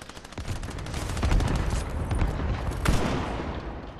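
Dense bursts of video game gunfire from Fortnite crackle through the whole stretch, loud and continuous with rapid overlapping shots and heavier spikes, and no voice over them.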